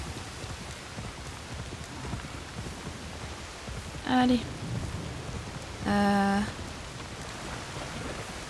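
Heavy in-game rain falls in Assassin's Creed Shadows, a steady hissing downpour with soft hoof clops, broken by two brief tonal game sounds and a short spoken word.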